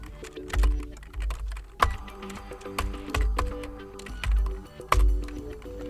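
Keys being typed on a keyboard while a contact name and incident date are entered into a form. Irregular, close, crisp clicks come in quick bursts, with no voice.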